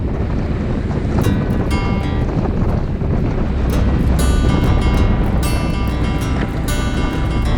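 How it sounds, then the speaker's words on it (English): A sailboat runs under mainsail alone with the motor off, making five to seven knots toward an inlet in the Bay of Islands; loud wind buffets the microphone over a constant rush of waves and water. "We killed the motor for a while and under mainsail only sailed to the Whangerie inlet, cracking 5 to 7 knots before hauling in the sail."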